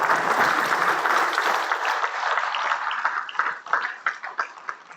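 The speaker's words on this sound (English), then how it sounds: "please help me to applaud Mahir" Audience applause at a school district Board of Education public session, dense clapping from a room of people that thins over the final seconds into fewer, distinct individual claps.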